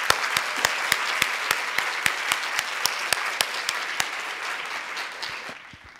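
An audience claps in sustained applause, with a few louder individual claps standing out before it fades near the end.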